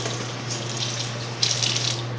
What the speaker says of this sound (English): So I'm gonna add some cold water to this.